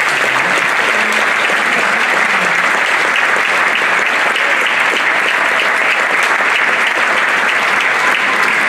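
Loud, sustained applause from an audience at an elected officials' New Year address in Auron, dense steady clapping with no pauses throughout.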